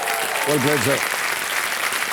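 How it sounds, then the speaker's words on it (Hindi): Studio audience of a KBC quiz show applauding a contestant, a broad wash of clapping heard under the host's brief spoken remark. "तालियां बज जाए इनके लिए।"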